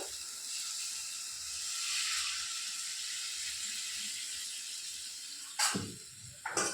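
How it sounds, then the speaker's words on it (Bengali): Water poured into a pan of fried mustard seeds for a Bengali fish curry, a steady loud hiss and sizzle that swells then eases, with a couple of sharper clattering bursts near the end. "তাতে পরিমাণ মতন এবারে জলটা আমি ঢেলে দেবো পরিমাণ মতন"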